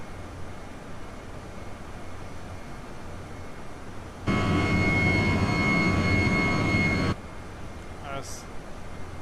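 Tu-154 jet engines in the X-Plane 12 flight simulator give a steady cockpit hum that surges abruptly into a loud, broadband roar for a few seconds, then drops back to the quieter drone, with a brief voice near the end.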